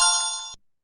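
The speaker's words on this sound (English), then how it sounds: "listen for 2 chimes because that's when we know it is completely translated into our beautiful math" Two short chimes from a screen reader signal that a math conversion has finished, a bright ringing tone that stops abruptly, heard alone with no speech.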